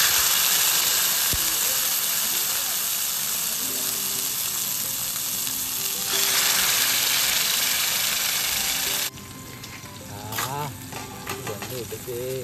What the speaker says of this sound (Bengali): আমি এটা ম্যারিনেট করে রেখেছিলাম, এখন জাস্ট ফ্রাই করবো।